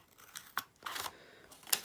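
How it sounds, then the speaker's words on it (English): Scissors snipping paper while making a paper helicopter, a few short quiet cuts and rustles in a still room. "We're going to take our scissors and just below that crease"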